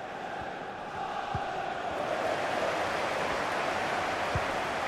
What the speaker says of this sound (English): it must be really great for these Liverpool players to hear this crowd